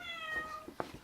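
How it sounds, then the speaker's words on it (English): A house cat gives a single short, quiet meow nearby, followed by a couple of soft faint sounds. "Yes, that's my cat."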